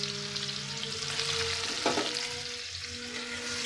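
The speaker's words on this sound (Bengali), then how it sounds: "পেঁয়াজগুলোকে আমি লাল করে ভেজে নিয়ে" Onions frying in hot oil in a wok give a steady, close sizzle with a brief stirring scrape midway, no voices.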